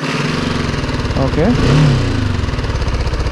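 A BMW motorcycle engine, already warmed up, idles with a throbbing pulse, then revs briefly before settling back; a voice speaks once over the engine.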